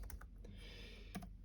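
Quick, quiet typing on a computer keyboard, a short burst of soft key clicks close by with no talking.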